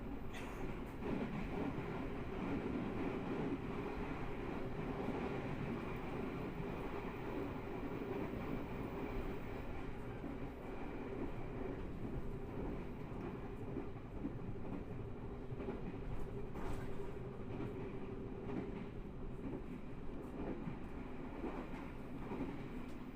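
Blambangan Ekspres passenger train running on straightened rails near the Java Sea coast, a steady faint rumble of wheels and carriage noise with light rhythmic clacking throughout.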